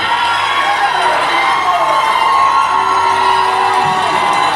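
A football crowd roars after a late fourth-quarter touchdown, a loud, sustained wall of cheering with shouts and whoops rising and falling throughout.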